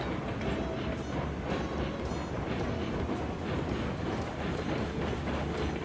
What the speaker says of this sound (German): jetzt höre ich auch zum ersten Mal das neue Dampfgeräusch von der Lok